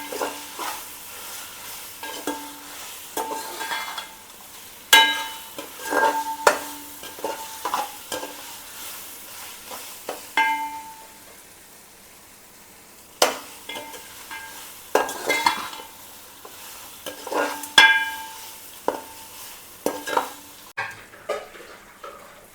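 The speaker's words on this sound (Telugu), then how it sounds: "మధ్య మధ్యలో కలుపుకుంటూ ఉండాలి" Chicken fry biryani stirred in a pot, repeated scraping and clinking strokes of a spoon against the metal coming in uneven bursts over a soft sizzle, with no talk.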